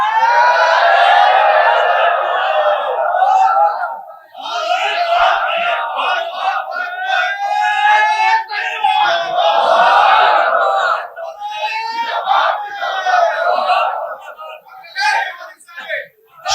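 A large crowd chants slogans in unison to welcome a chief guest at a political rally, the loud rhythmic shouts rising and falling in repeated waves.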